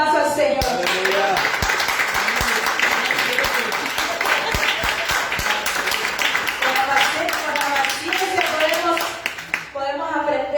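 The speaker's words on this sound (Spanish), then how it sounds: "Dele un aplauso al Señor" A church congregation claps for the Lord during a Spanish-language service, with steady rhythmic clapping running nearly throughout, mixed with voices and tonal singing or music, then trailing off at the end.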